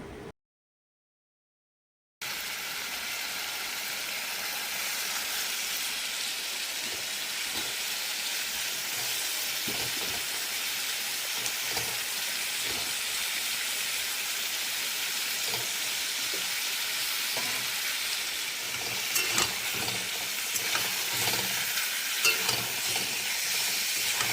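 Spices and meat fry and get stirred in a pan for a Bengali meat curry, with a steady loud sizzle and hiss throughout and scattered scraping stirs, alone without talk.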